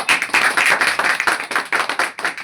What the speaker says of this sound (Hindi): आप तालियों के साथ इसका स्वागत कीजिए